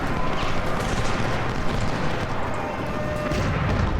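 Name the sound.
artillery firing in Ultimate General video game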